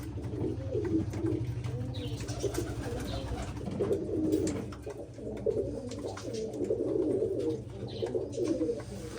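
Several pigeons coo in soft, repeated rolling calls, close by, continuing steadily throughout.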